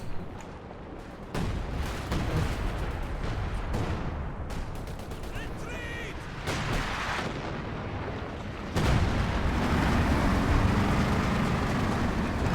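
A concentration barrage in a strategy game sends artillery fire and scattered gunshots thudding across a battlefield, dense and rumbling throughout, growing heavier toward the end.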